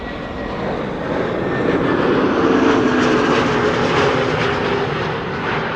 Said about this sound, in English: A320neo, flight 108, arriving from Rome.